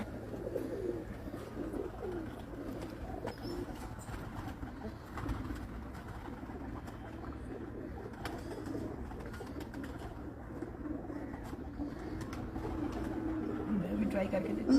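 Pigeons coo in a low, continuous murmur from a rooftop loft, a flock's soft rolling calls layered together at moderate distance, with faint background noise throughout.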